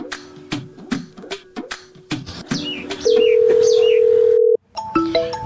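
Quick beeps of telephone keypad tones, followed by a steady dial tone that cuts off, then a few more short electronic tones.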